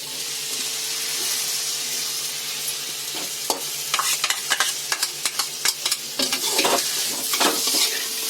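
Dried red chilies fry in hot oil with a continuous hiss. It grows into busy spattering and a rapid series of sharp metallic clinks and scrapes from stirring in the pan.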